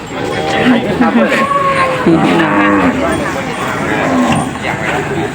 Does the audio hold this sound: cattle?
yes